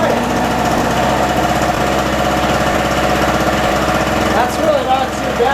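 A Harbor Freight 700 watt two-stroke generator runs close by with a steady, buzzing light-engine drone throughout, and a voice speaks briefly over it near the end.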